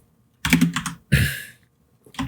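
Code being typed on a computer keyboard, two close bursts of rapid clattering keystrokes separated by short pauses, with more typing starting at the end.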